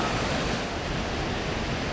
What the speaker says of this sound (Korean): 275개의 폭포가 모여있는 이과수 폭포는 1984년 유네스코로부터 세계 자연유산으로 지정된 곳이다